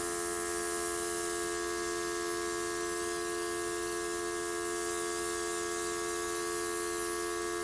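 A Luminess Legend airbrush sprays a fine makeup mist onto skin, giving a steady, close, even hiss that runs without a break, with a constant tonal hum from the compressor underneath.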